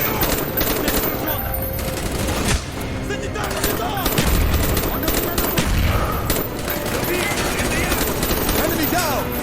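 Gunfire in the Call of Duty: Black Ops video game, with dense bursts and rapid fusillades of shots running steadily through the whole stretch, mixed with game effects and muffled voices.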